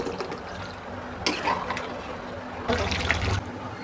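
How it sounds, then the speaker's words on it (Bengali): Water poured into a chicken and potato curry in a pot, with two short splashing pours over a low background hum and nobody speaking. "অল্প করে একটু জল দিয়ে দিলাম।"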